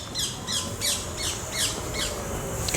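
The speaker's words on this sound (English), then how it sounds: "there's a parrot" A parrot gives about six harsh, repeated squawks at a steady rhythm, close and clear over a low background rumble.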